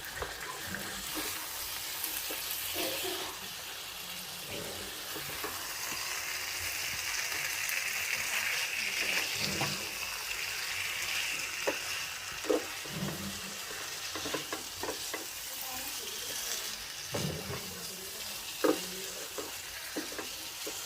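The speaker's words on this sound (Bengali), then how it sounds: "এবার এতে মাংসগুলো দিয়ে দিব এবং নেড়েচেড়ে মিশিয়ে নিব।" Chicken pieces sizzle loudly in spiced masala while a spatula stirs them. A steady, close frying hiss runs throughout, broken by occasional scraping knocks, with no talk.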